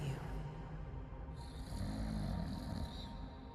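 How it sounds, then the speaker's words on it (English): Heavy snoring from a character in the video game Mortal Shell 2, a continuous rough, breathy drone that swells and rumbles steadily over a low background, close and fairly loud throughout. "Snores heavily."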